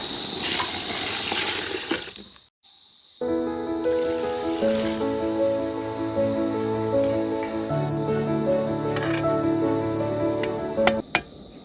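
Water pours into a pot of rice for mushroom biryani in a steady, close gushing stream that lasts most of the time, broken by a brief pause, with faint tonal sounds in the background.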